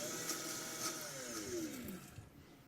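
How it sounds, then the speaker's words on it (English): A large blender whirs steadily as it purées sorrel with salt, pepper and oil, its motor pitch shifting slightly as the mixture turns, then easing off near the end. "I'm going to use more oil than what I actually need, just because the blender is big"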